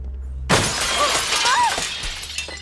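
Glass shatters with a sudden loud crash, and fragments keep scattering and tinkling for a couple of seconds in a dubbed drama scene.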